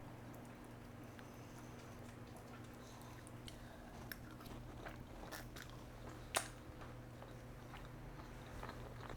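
Someone eating creamy parmesan noodles with peas, with soft chewing and faint fork clicks at close range over a low steady hum, including one sharp clink midway, and no talking.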